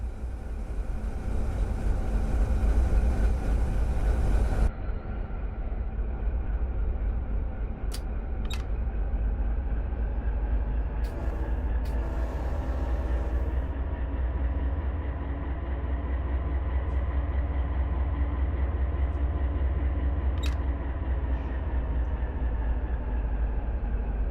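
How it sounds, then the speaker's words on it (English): A freight train in the Run8 simulator pulls away on a local job around Savannah, Georgia, its steady low diesel rumble sustained throughout, a brief higher hiss near the start and a few short clicks and squeals over it, no voices. "get ourselves moving and we'll get this train on its way"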